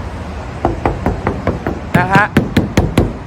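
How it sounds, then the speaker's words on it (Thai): Knuckles rap repeatedly on the body panel of a 2012 Nissan March 1.2 E automatic, about a dozen sharp, close knocks in an uneven rhythm, with someone talking between and over them. "เดี๋ยวผมขอเคาะสักนิดนึงก่อนจะไปดูห้องเครื่องนะครับ"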